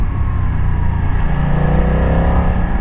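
A BMW F900 XR motorcycle engine pulls loudly and steadily as the throttle is gradually rolled on along an open road, a rising drone with wind rush, close and continuous, no voices.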